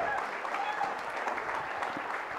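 An audience claps at a project competition prize distribution, greeting the winners. The applause is steady and moderately quiet, a continuous wash of hand claps heard from some distance.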